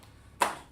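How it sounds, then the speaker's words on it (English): A single sharp clap from a class applauding together, a short bright burst that rings briefly and fades, following near silence. "Let's clap it up for class."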